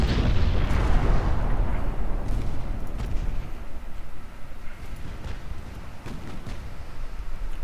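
Naval guns from light cruisers in Ultimate Admiral Dreadnoughts boom heavily at the start, then a deep rolling rumble lingers and slowly fades, with faint thuds scattered through the tail.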